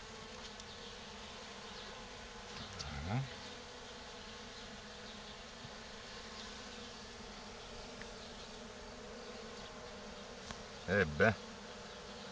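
Honeybees drone in a low, continuous buzz while a wild swarm with an old queen is moved from a Dadant nucleus hive into a 20-frame Layens hive. A few brief thumps and short spoken words rise over the hum.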